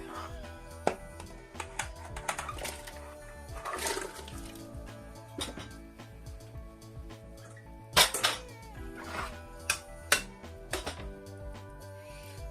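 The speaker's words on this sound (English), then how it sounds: "Now I'm gonna add my food to the pot." Food going into a pot of Jamaican-style chicken foot soup, heard as scattered clinks and clanks of pot and utensil with splashy bursts of liquid, close and uneven over a soft background.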